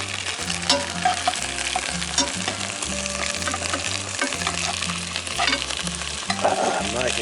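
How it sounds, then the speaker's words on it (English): Italian sausage frying in a Dutch oven at a campsite, loud continuous sizzling and crackling with scraping as the links are turned with a spoon. "I can flip the whole deal with a spoon maybe."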